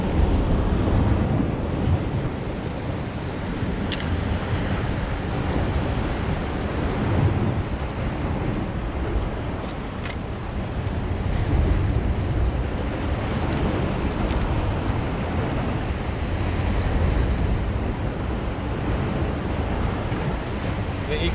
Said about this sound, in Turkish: Dalga biraz bugün kesik kesik geliyor arkadaşlar.